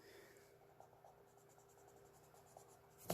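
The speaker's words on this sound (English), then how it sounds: "so we need to erase." A pencil eraser rubs over paper in quick, faint back-and-forth strokes, a soft dry scratching that ends with a louder brushing swipe.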